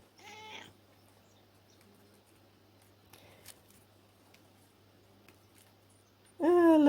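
A cat meows twice indoors, a short call near the start and a louder, drawn-out meow at the end, with quiet rustling and faint handling noises in between.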